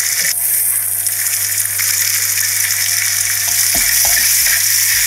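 Chopped tomato sautéing in a ginger-garlic masala for prawn biryani, a steady loud sizzle with a few stirring scrapes near the end, no talk.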